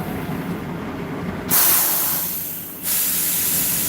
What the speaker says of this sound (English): Playing wait and see, air brakes, traffic, all kinds of stuff.